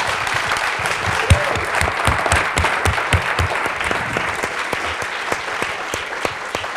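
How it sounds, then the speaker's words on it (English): Broad, sustained applause from an audience at a forum archive celebration, dense crowd clapping that holds steady throughout with a few sharper individual claps standing out near the listener. "a really broad round of applause."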